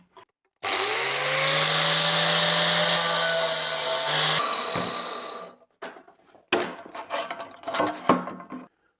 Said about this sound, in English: So let me get the grinder.